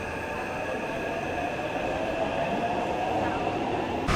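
A train running on a rail line near Xiaonanmen station in Taiwan, a steady low rumble and hum with tonal whine that grows slightly louder over about four seconds, heard from nearby outdoors.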